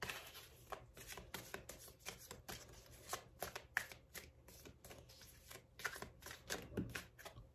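Tarot cards shuffled by hand for a reading, a quick continuous run of riffling, slapping card sounds close to the microphone, quiet overall with no talking.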